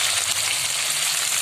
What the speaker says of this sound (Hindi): इसको बस शैलो फ्राई करना है।